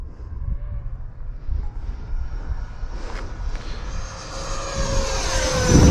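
An E-Flite F-16 RC model jet flies past with its landing gear down, its engine a continuous rushing whine that swells and grows louder toward the end, heard outdoors with no voices.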